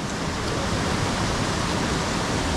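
A mountain river rushes under a bridge on the trail from Ghangaria toward the Valley of Flowers, a loud, steady roar of turbulent water with no pause or talk.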